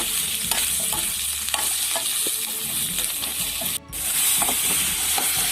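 Snake gourd vegetables being stirred in a hot pan with salt, a steady sizzle under repeated scraping strokes of a spoon against the pan, close and continuous, with a brief dip midway and no talking.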